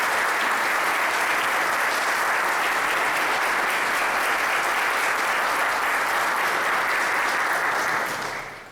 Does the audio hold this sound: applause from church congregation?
yes